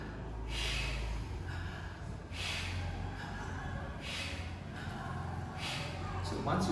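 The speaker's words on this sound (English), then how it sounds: "It's called sniffing." Forceful sniffs through one nostril during a breathing exercise, about five sharp rhythmic bursts roughly a second apart, close and distinct over a quiet background hum.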